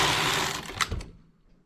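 Knitting machine needle being called back into working position during a joined finish on a machine-knit sweater, a steady mechanical whirring clatter that trails off after a brief sharper click.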